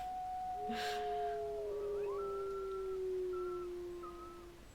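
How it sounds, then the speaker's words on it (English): Wolves howl in the video game WolfQuest, with long, smooth, sustained tones that glide slowly downward and overlap one another. Later, fainter howls join in at a steady moderate level with no speech. "Oh, we're all howling again."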